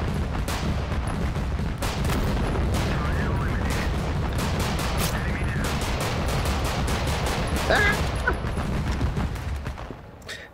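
Sustained gunfire in the war game Total Conflict: Resistance, dense rapid shots and booms packed throughout at steady loudness, with a brief faint voice near the end.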